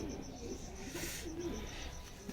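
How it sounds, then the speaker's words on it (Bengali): Pigeons in a loft give a few soft, low coos close by over a faint background hum. "বাপিদার পায়রা এমনি সব বাছাই করা পায়রা"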